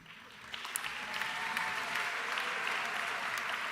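A room full of people applauding at a high school graduation ceremony, sustained steady clapping that swells slightly, with a few sharper claps standing out.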